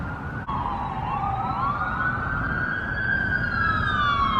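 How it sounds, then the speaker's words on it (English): An ambulance siren wails on a street near construction, its rising and falling tone drifting steadily and growing slightly louder as it approaches over road noise, with no talk. "An ambulance."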